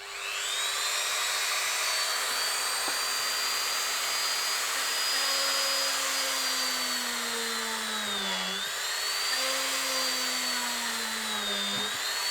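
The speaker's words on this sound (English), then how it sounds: "now, as I say, I'm just drilling them out." A small Dremel rotary tool whines continuously at high speed while drilling holes in leather for a knife sheath, its pitch dipping briefly twice as it bites in, close and steady.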